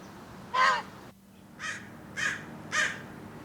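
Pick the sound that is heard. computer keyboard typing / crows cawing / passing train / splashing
crows cawing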